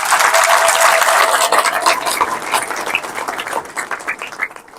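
A congregation at an Ethiopian Orthodox Tewahedo church gathering claps together: dense, close applause that starts loud and gradually thins into scattered claps before fading out.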